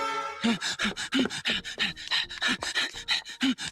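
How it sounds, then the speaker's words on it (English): Heavy, rapid panting after running upstairs, a dense train of loud, rhythmic breathy gasps close to the mic that sound almost dog-like, with no words spoken. "breathing awful hard to just be running upstairs"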